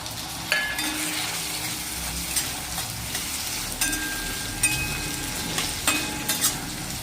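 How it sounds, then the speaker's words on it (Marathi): Chopped tomato goes into onion frying in a pan for potato rassa bhaji and gets stirred, a steady loud sizzle under scraping strokes and light metallic clinks of a spoon against the pan, with no talking. "याच्यामध्ये आपण 1 टमाटर घेतलेला आहे चिरून, हा टमाटर टाकून देऊ याच्यामध्ये"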